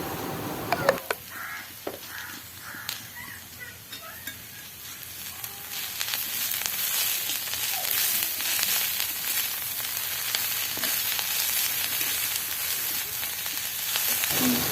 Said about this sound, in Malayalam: ഇനി നമുക്കൊരു ടീസ്പൂൺ ഉപ്പിട്ട് കാണ്ട് ഇതൊന്ന് നല്ലവണ്ണം വാട്ടിയെടുക്കാം